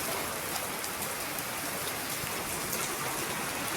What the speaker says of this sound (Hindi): उधर देखिए कितनी बारिश आ रही है।